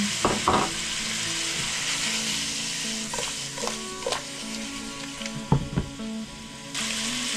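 Onion frying with pork in a pan for Filipino sinigang. A steady hiss of sizzling oil runs throughout, broken by spatula scrapes and clacks as the pieces are stirred, all close by and without any talking.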